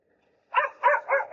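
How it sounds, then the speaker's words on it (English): Several dogs bark in quick succession, three or four loud, close barks in a rapid burst after a moment of quiet, heard early in the morning during an uphill drone flight in Kalimpong. "Journey is exciting the dogs."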